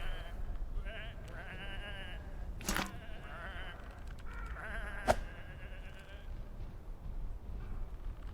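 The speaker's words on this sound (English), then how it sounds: "Come on, these are just sheep." Sheep bleat repeatedly in a video game set in a fantasy world, several overlapping wavering calls spread across the scene over a steady ambient background, with a sharp thud partway through.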